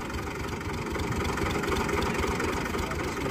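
A steady, loud engine of a 2022-model tractor with 122 hours of use idles continuously with a low, even rumble and no pauses or changes in pitch.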